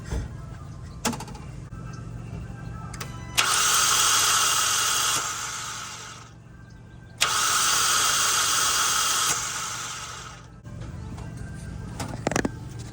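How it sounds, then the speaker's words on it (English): A Kia Soul's faulty starter motor whirs twice in long high-pitched spins, each lasting a few seconds, without engaging or the engine catching; quiet pauses and clicks surround them. "when I start the engine, you're gonna hear the starter start, but it'll spin in one spot"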